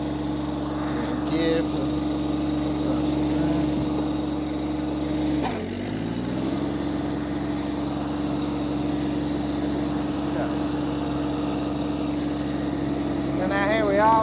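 An ISEKI TXGS24 compact tractor with a mulching deck runs with a steady, droning engine hum, dipping briefly as it shifts gear, then settling into a constant nearby drone while someone talks over it.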